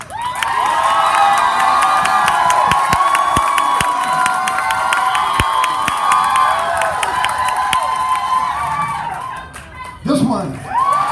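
A pun-off crowd at the O. Henry Museum loudly cheers, whoops and claps in a sustained roar for a clap vote, with children's shouts mixed in; the noise fades near the end as voices come through.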